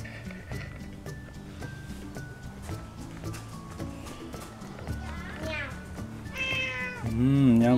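A cat meows repeatedly near the end, rising above background talk and the chatter of neighborhood children.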